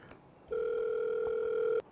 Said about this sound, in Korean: 이거 내가 전화를 드릴게